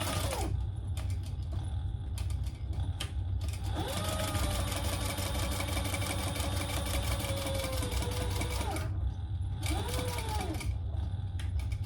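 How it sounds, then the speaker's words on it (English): A sewing machine topstitches the flap of a crossbody sling bag, running in loud close bursts of motor whir and needle clatter. It stops and restarts several times, with brief mechanical clicks in between. "And we're going to stitch just on the flap."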